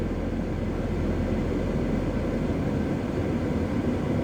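Scenic tour helicopter arriving, a steady, loud, close rotor-and-engine drone with constant low rumble and no breaks, heard alone without talk.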